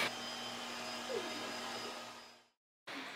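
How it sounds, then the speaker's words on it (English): A Yeedi Cube robot mop vacuum cleans a house floor with a steady, close whirring drone that winds down to silence, then starts up again abruptly. "And it just vacuums your house for you while you literally do nothing."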